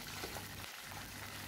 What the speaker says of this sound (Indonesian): Sekarang saya goreng dulu udangnya.